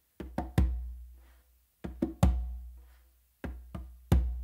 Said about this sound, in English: what you're going to do is a bass and a finger with your non-dominant hand on the conga